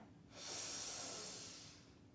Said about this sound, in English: and then forcefully exhale through the nostrils